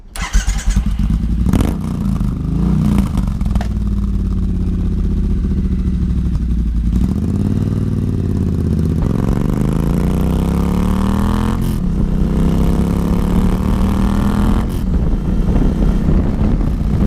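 A Triumph Bonneville twin-cylinder motorcycle engine revs repeatedly, rising and falling in pitch with loud, throaty bursts close by, with no talking.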